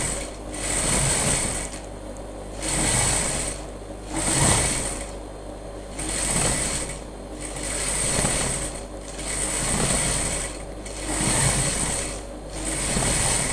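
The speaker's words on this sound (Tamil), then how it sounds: "நான் மீடியம் சைஸில் தான் தையல் போடுறேன்." Sewing machine stitching very thick cloth at medium stitch length, a steady mechanical whirring in repeated bursts of about a second each, separated by short pauses, close and fairly loud with no talking.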